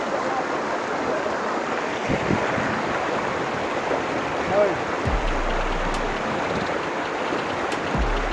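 Continuous rushing water pours and churns steadily into a haor wetland in Sunamganj, Bangladesh, a broad loud wash with a few low thumps from the microphone.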